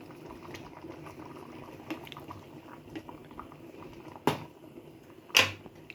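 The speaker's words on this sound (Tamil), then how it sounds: "ஒரு 2 நிமிஷம் கொதிக்கட்டும் சாம்பார்." Sambar simmers at a boil in a pot, with soft continuous bubbling and gurgling and a couple of sharper pops or clinks near the end. No voices.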